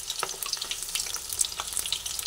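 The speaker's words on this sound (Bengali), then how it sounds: "এইভাবে একটু তেলটা একটু বেশি দিয়ে শিমগুলোকে ভেজে নিচ্ছি।" Flat beans stuffed and sealed with gram flour fry in a generous layer of oil, a soft close crackle of irregular popping and sizzling spits with light stirring, quiet and without voices.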